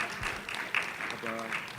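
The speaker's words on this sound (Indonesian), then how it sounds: "kita beri tepuk tangan sekali lagi untuk Pak Lokeng Hong." An audience at a property-agent gala dinner claps steadily, a dense patter of applause with a voice briefly heard over it.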